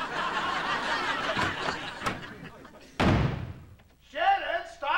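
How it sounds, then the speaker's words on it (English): A bedroom door in a family home slams shut once, loud and sudden, partway through, set amid ongoing talk and light laughter. "stop slamming your door!"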